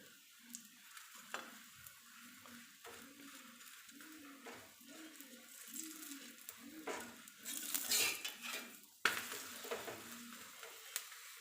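Methi thepla roasting in oil on a pan gives a soft, steady sizzle broken by scraping and stirring sounds and light clinks of a utensil against the pan, close by with no talking.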